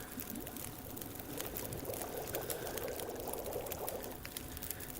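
Water boiling over a fire in the survival game The Long Dark, a quiet, steady bubbling and pouring-like wash of liquid that runs continuously with no talk.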